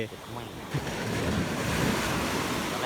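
Sea waves wash in steadily on a beach at dawn, a loud continuous surf roar mixed with wind buffeting the microphone, with brief voices near the start.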